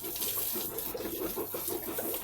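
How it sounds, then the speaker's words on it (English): Water runs from a tap on a pig farm in upcountry Kenya, a steady splashing, gurgling stream at close range, continuous and moderately quiet, with no voices. "So let me first fill the water from that place"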